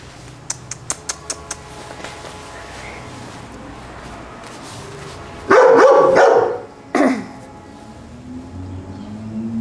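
Dogs bark at home, first a quick run of small sharp yips, then a louder, longer burst of close barking and one final bark against a quiet background.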